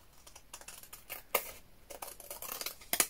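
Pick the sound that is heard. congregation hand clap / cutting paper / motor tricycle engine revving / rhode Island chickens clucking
cutting paper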